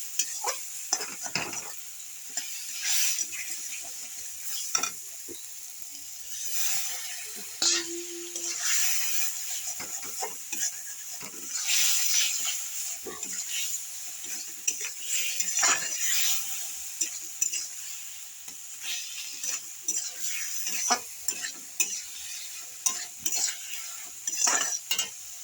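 Potatoes fry in a wok with a splash of water, sizzling steadily while a spatula scrapes and knocks against the metal in repeated stirring strokes, close and clear with no voices.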